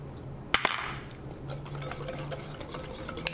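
A spoon stirs meatloaf glaze in a bowl, starting with a couple of sharp clinks against the side, then soft, faint scraping and swirling continuing quietly with no talking.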